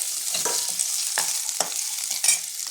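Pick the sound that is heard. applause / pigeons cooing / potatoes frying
potatoes frying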